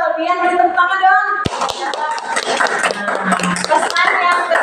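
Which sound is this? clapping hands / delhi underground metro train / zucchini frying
clapping hands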